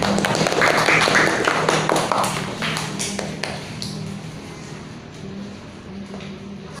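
A classroom group applauds for a presenting team, giving dense, steady clapping that is loud at first and slowly thins and fades over several seconds, with no talk over it.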